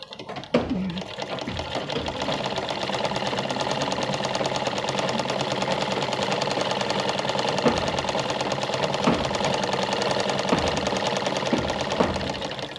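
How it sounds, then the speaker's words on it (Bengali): A sewing machine stitching along the side of a blouse neckline piece, running in a steady, loud, fast mechanical whir for nearly the whole stretch after a brief start. "একেবারে তুমি সাইড দিয়ে সেলাই করবে।"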